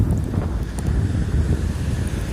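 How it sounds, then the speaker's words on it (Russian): Strong wind by the sea buffets the microphone in a loud, rumbling roar, with the wash of waves blended underneath and no voices. "Ветер очень сильный"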